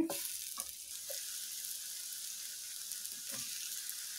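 Raw banana slices fry in oil on a tawa with a steady, close sizzle and a few soft taps as pieces are set down.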